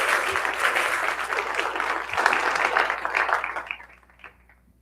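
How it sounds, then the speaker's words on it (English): An audience applauds at the end of a logistics lecture at Laredo College. The clapping is dense and sustained for several seconds, then thins out and fades away. "Let's give him a round of applause,"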